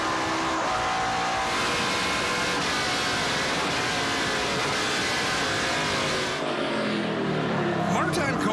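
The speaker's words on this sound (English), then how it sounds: "he looks to get around the number 11 of Martin Cote, and he will do so without a problem down the back straightaway." NASCAR Pinty's Series stock cars in a 2016 race at a short oval, engines roaring steadily down the back straightaway as one car overtakes another, loud and continuous, with a commentator talking over it.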